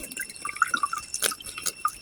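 Water poured out in a quick splashing run of drips and trickles beside a fishing spot, brief bright spattering lasting about two seconds with no voices.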